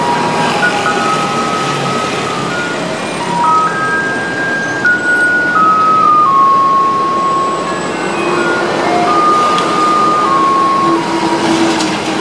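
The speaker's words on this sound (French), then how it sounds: "le camion poubelle il y a une petite musique" A loud electronic jingle plays a simple melody of steady beeping notes from a garbage truck in Taiwan, over constant rumbling street noise, with no talking.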